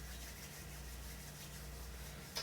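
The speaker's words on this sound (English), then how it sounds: "You can rub your hands" Palms rub together in a steady, continuous soft friction during a grounding yoga practice, close and quiet against a faint low hum, with a brief sharper swish at the very end.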